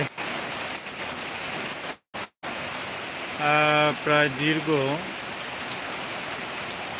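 The first rain of Boishakh falls as a dense, steady hiss across the surroundings, briefly cutting out, while someone speaks over it for a few seconds.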